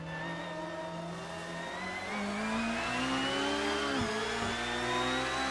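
Honda NSX engine accelerating hard on the Nürburgring, a steady mid-pitched drone that climbs and swells louder from about two seconds in, with a brief dip near four seconds as revs fall and rise again.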